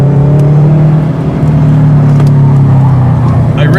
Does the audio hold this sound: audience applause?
no